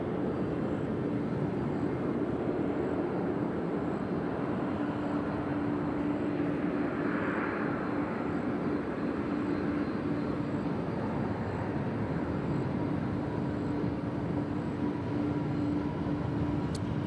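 A Boeing 777 airliner taxis at Nashville International Airport, its engines a steady distant roar with a faint whine. The sound holds evenly throughout with no voices.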